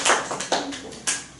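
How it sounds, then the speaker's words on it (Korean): A handful of people clapping in a classroom lesson, several quick, sharp claps in an uneven burst, close and fairly loud without talk. "뭐가 또 박수 얘기해서 박수 쳐야지."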